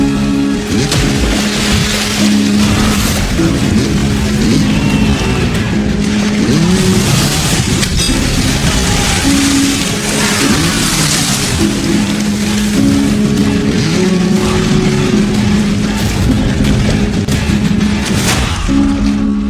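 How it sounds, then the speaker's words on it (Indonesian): Motorbike engine revving hard and speeding off, loud and continuous with rising and falling engine whine under a busy, noisy background. "Pushpa memacu motornya menerjang ke sana."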